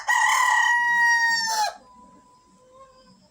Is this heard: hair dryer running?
no